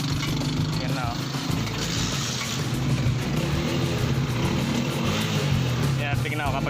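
A Motoposh Pinoy 155 motorcycle engine runs out of timing, idling roughly with an uneven, sputtering putter. Someone talks over the engine noise throughout.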